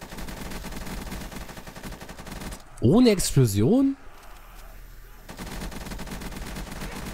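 Rapid bursts of gunfire crackle continuously, briefly interrupted by a loud voice speaking, then the shooting resumes; shooting zombies in the video game Call of Duty: Black Ops 3.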